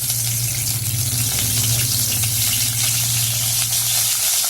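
Spices and large chopped onion pieces frying in hot oil in a wok, a steady dense sizzle with a constant low hum underneath, loud and close, no talking.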